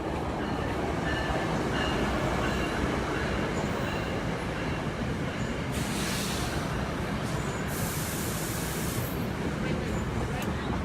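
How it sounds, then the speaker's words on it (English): A New Jersey Transit train rumbles past steadily for the whole stretch, a broad continuous roar of wheels and cars with brief brighter hiss partway through, no talking. "Another train, of course, so one moment. There it is."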